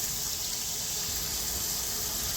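Running water rinses a hydro-dipped deer skull under a tap, a steady, close, even gush with no pauses and no talking.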